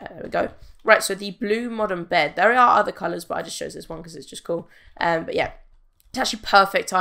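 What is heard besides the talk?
No distinct noise like a dog, phone or traffic.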